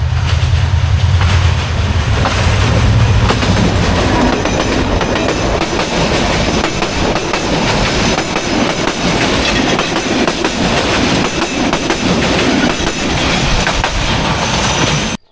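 A train thunders past close by on a railway line through dense forest near Sreemangal, a loud, continuous rumble and clatter of wheels on rails lasting the whole stretch.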